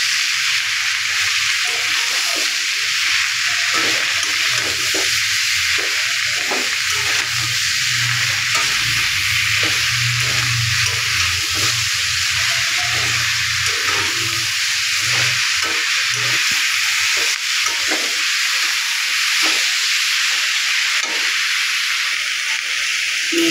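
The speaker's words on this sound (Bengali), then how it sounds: "নেড়ে চেড়ে ভালোভাবে লাল শাকটা ভেজে নিলাম।" Red amaranth greens with browned dried chilies fry in a pan, giving a loud, steady hiss and sizzle of hot oil with soft scraping and stirring sounds running beneath it throughout.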